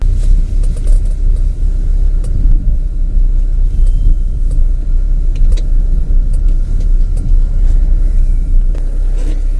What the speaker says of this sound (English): let's move the car